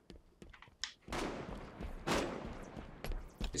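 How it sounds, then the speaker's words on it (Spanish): Gunfire in the Halo 5 video game, a sniper-rifle playlist: several sharp shots and bursts at a modest, somewhat distant level over steady game ambience, with no talking. "Escucho disparos"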